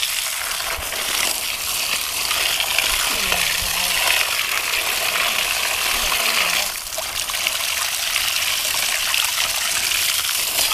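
Pumpkin plants being watered outdoors, heard as a steady, hissing spray and trickle of water that continues throughout at a constant level, with a brief dip near the end.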